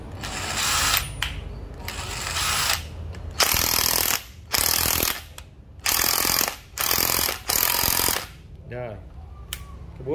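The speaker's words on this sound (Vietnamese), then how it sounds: "Búa của 608 này nó cũng rất là ok nha các bạn. Búa nó đập cũng hơi bị ghê ha." A yellow EZT608 cordless hammer drill, an old Japanese tool, hammers in repeated loud bursts of one to two seconds each, separated by pauses. Someone speaks briefly between bursts.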